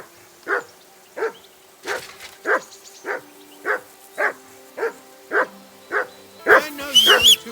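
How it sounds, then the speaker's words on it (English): A dog barks in Kingdom Come Deliverance 2, about a dozen loud, evenly spaced barks close by, ending in a quicker flurry of higher yips and whines. "that barking's driving me nuts!"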